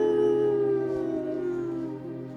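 A human voice imitates a dog's sad, drawn-out howl, a single sustained wavering tone that slowly fades, heard alone and up close.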